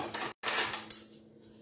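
Two spoons scooping sticky Florentine batter of honey and caramel, giving a couple of quick close metallic scrapes and clinks with a brief gap between them.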